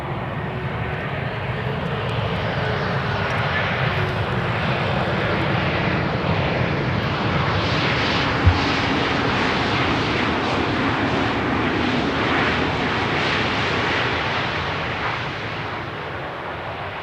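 A large fixed-wing airliner arriving on runway 18R at Amsterdam Schiphol Airport roars steadily with engine noise throughout, a broad sustained rumble and whine that stays loud and close without fading.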